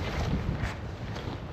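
Wind buffets a microphone outdoors on a windy spot, a loud, continuous low rumble with gusty swells filling the short stretch, no voices present.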